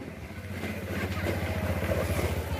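A new Yamaha motorcycle's engine runs steadily nearby with a low, even throb that gradually grows slightly louder, with no talking over it.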